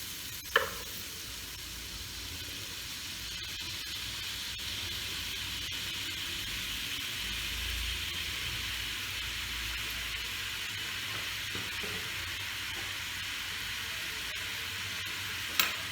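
Panch phoron spices sizzling in hot oil for katla fish, a steady bright hiss held throughout with a couple of faint clicks, close and unbroken.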